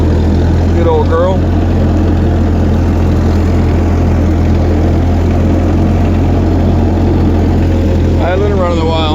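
An old tractor engine idles steadily outdoors at night, a loud continuous low rumble running through the whole stretch, with brief vocal sounds near the start and end.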